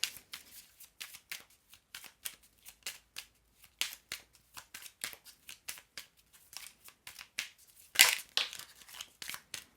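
Oracle cards being shuffled for a reading, soft rapid flicking and sliding bursts in an uneven rhythm, close and quiet, with a sharper papery rustle near the end and no speech.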